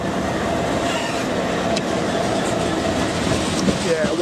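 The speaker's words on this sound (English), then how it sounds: "So, class 165, diesel multiple unit." Class 165 diesel multiple unit at Kenton station on the Greenford branch, a steady loud rumble of diesel engine and rolling wheels filling the whole stretch, with faint clicks and a brief squeal near the end.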